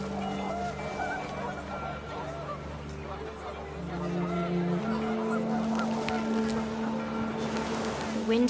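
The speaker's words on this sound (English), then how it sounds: "The wind picked up and panicked geese appeared and quickly went" Panicked geese in the video game What Remains of Edith Finch honk repeatedly as wind picks up, a cluster of nasal calls standing out over a windy game backdrop.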